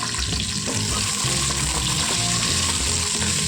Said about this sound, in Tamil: எல்லா காய்களையும் போட்டு நல்லா கிண்டிக்குவோம்